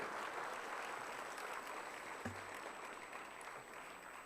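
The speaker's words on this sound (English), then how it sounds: "I could hear the sound of the clapping only on one side." Audience clapping at a conference event honouring a guest, a quiet, fairly distant patter of hands that stays even for several seconds, with a faint steady tone running underneath.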